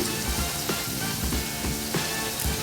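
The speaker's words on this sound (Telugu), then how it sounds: "అవి కూడా దీంట్లో వేసి కలుపుకుందాం కొంచెం మెత్తబడే వరకు ఉడికించుకుందాము" Tomatoes and salt sizzle in a pan while being cooked down for a lunch box recipe, a steady, close frying hiss with occasional soft stirring scrapes and no talking.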